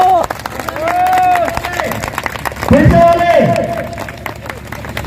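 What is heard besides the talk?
audience clapping at seminar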